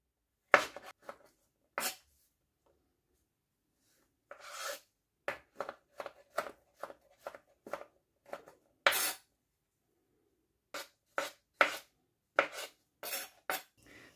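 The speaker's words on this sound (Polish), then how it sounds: "Czosnek kroimy w plasterki, a pieczarki na kawałki jak wcześniejsze warzywa" Garlic is sliced and mushrooms are chopped with a knife on a board, giving short, close, irregular cuts in separate bursts. A quicker run of taps comes in the middle, with pauses between the groups.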